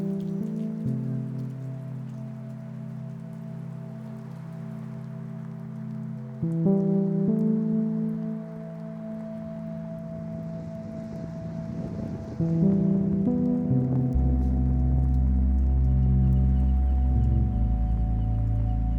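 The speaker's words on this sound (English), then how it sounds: "It was a rainy morning in the Scottish town of Falkirk." Rain falls steadily on a morning street in the Scottish town of Falkirk, a soft continuous patter lying under prominent sustained music tones that shift in level throughout.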